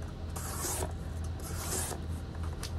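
TRM Bulldog knife with a MagnaCut steel blade slicing through double-thickness cardboard: repeated rasping strokes, about four close scraping pulls in steady rhythm, with no talking.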